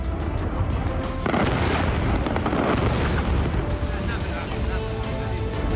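Bomb explosions from Israeli airstrikes on Lebanon, Beirut to Baalbek, heard as a dense continuous roar with a heavy rumbling burst, loud and distant in character, mixed with a narrator's voice.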